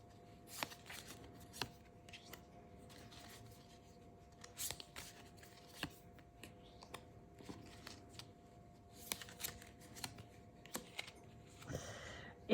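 Quiet, close rustling and soft snapping as Petit Lenormand cards are shuffled and drawn, in small irregular bursts of light flicks and slides against a low background hum.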